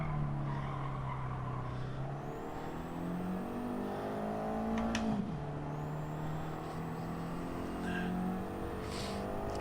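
Car tires lose grip in Gran Turismo 7, giving a sustained engine drone with a brief sliding screech near the middle, fairly loud and steady throughout without talk.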